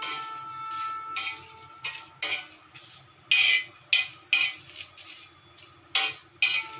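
Dry-roasted chillies are stirred on a hot tawa over medium heat, with a string of sharp metal scrapes and clinks at irregular intervals over a faint low background.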